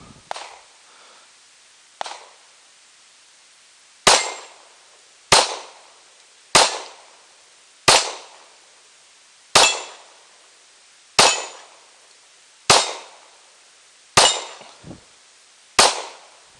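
Pistol shots ring out one at a time, about ten sharp loud cracks spaced roughly one to one and a half seconds apart, each with a short decaying ring and no talking between them.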